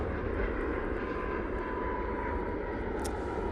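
Malta Air airliner departing Manchester Airport for Milan, a steady broadband jet roar holding at even loudness throughout, with a brief higher hiss near the end.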